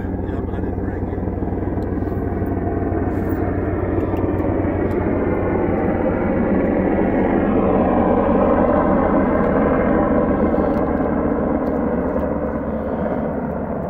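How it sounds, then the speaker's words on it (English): A loud, steady Apache helicopter roar with a throbbing rotor beat, passing close overhead and holding strong the whole time. "What kind of helicopter was that, Fred?"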